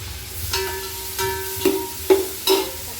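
Tomatoes tipped into onions already softening in a pan for Sunday biryani, giving a few scattered soft clatters and stirring scrapes over a low steady sizzle, close and fairly quiet.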